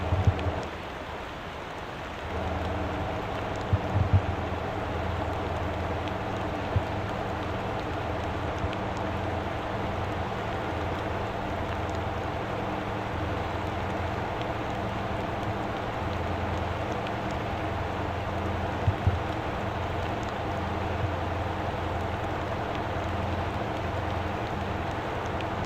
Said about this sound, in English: Rain really doesn't last that long.